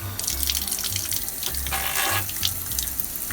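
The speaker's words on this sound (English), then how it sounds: "So first thing I'm going to do is turn on the water." Tap water runs steadily, filling a Wonder Wash non-electric home washing machine, a close, continuous gush with a low hum pulsing underneath.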